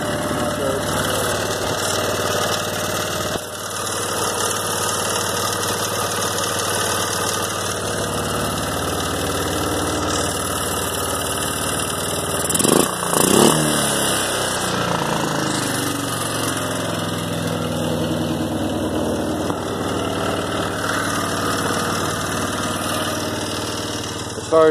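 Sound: 2002 Arctic Cat 375 4x4 ATV engine running

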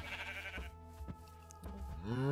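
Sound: sheep bleating in the video game Minecraft

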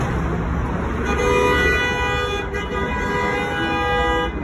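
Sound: car horn honking

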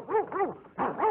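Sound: dogs barking

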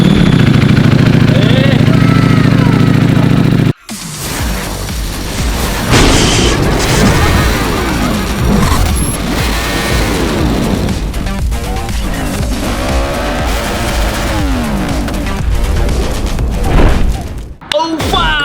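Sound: big bike motorcycle engine

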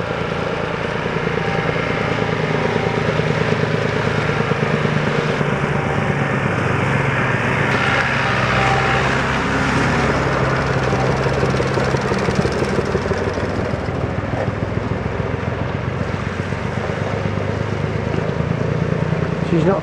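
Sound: old engine cranking over but not firing

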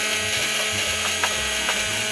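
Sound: motor of a homemade glass bottle cutting jig switching on

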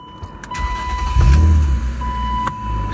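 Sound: BMW M3 engine starting up

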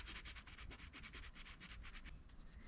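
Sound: tent fabric rubbing in a light breeze

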